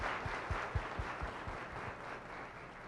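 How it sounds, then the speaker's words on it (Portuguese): A short burst of scattered clapping from a small group at a Seicho-no-Ie religious talk, uneven claps fading out after a couple of seconds. "merecem mais palmas."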